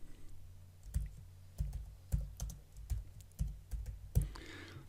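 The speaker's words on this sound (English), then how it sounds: "Now we can type in some text." Typing on a computer keyboard while entering text into a photo-editing program, heard as a close, irregular run of sharp keystroke clicks with short pauses, standing alone without any talk.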